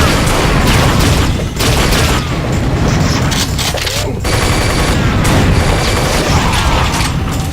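Rapid, dense gunfire and booming weapon blasts in an Unreal multiplayer match, including a dispersion pistol, loud and near with barely any pause across the stretch.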